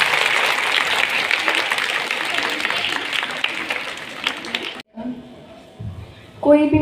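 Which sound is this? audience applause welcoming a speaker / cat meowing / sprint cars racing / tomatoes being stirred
audience applause welcoming a speaker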